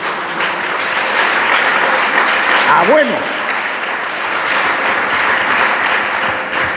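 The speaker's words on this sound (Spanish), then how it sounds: "Dele palmas al Señor." Church congregation clapping in praise during a Spanish-language sermon, sustained steady applause throughout with a voice speaking briefly over it.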